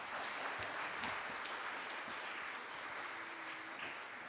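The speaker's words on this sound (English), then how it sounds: "Can we please have one more round of applause for that beautiful piano piece?" Audience applause at a symposium lecture hall following a piano performance, a steady, fairly quiet wash of clapping sustained throughout without a break, heard from a distance.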